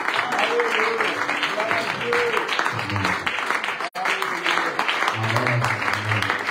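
A church congregation claps and applauds along with sung praise, a steady dense patter of hands under voices, with a brief break near the middle.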